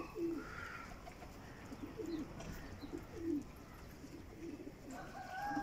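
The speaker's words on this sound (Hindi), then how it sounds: "ये उतर आए कबूतर हमारे।" Pigeons cooing softly and repeatedly nearby, low throaty calls recurring every second or so over faint background noise.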